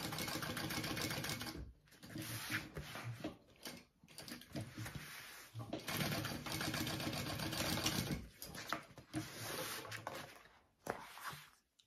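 Sewing machine basting a backpack piece, running in quick bursts of rapid stitching separated by short pauses, close and clear.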